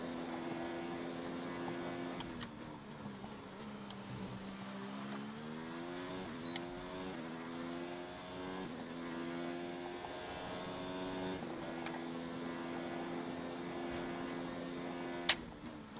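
Mercedes F1 car engine screaming through a one-shot qualifying lap at sunny Spielberg in the F1 2019 game, loud and steady, its pitch climbing and dropping with repeated gear shifts, with no voices.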